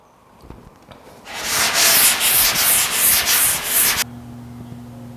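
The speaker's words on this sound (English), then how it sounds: "I'm gonna go ahead and keep sanding on this a little bit" Primer on a 1950 Chevy truck fender is hand-sanded with 600-grit paper in a loud, steady rasping stroke that pulses back and forth for about three seconds, then stops, leaving a low hum.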